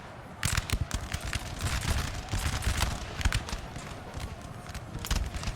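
Massed musket volleys from Napoleon: Total War crackle in ragged, overlapping bursts, mixed with rumbling battle noise and hoofbeat-like thuds, continuous and fairly distant.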